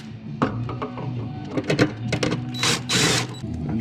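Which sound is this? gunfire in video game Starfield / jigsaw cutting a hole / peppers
jigsaw cutting a hole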